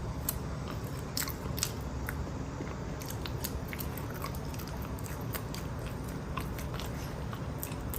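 Bites and chewing of a frozen banana on a popsicle stick, with sharp crisp crunches at irregular moments over a steady background hiss, close and fairly quiet, no talk.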